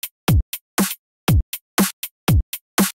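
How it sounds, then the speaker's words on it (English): A programmed drum loop in REAPER built from kick, snare, closed hi-hat and open hi-hat samples. The pattern repeats about three times, with punchy kicks, crisp snares and short hats in a steady, dry groove and nothing else heard. "I've got kick, snare, hi-hat, hi-hat open."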